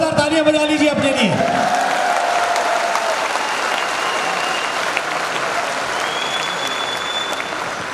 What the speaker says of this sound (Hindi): एक बार जोरदार तालियां बजा लीजिए अपने लिए